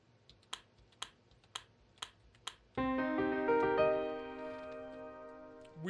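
Five crisp, evenly spaced key presses on a computer keyboard entering a passcode in a horror game, followed by a loud sustained synth tone with shimmering high partials that swells and slowly fades.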